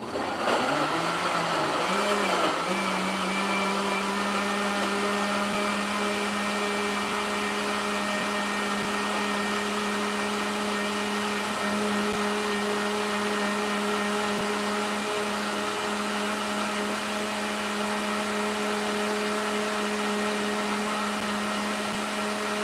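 A blender whirs steadily and loudly throughout, blending callaloo leaves and stems for a pineapple drink, its motor pitch settling after a brief rise at the start.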